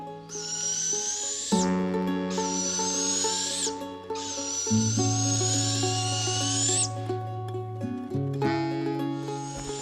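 High, drawn-out hissing screeches from spotted owl chicks squabbling over food overlap and alternate, loud and close, with steady tonal hums beneath throughout.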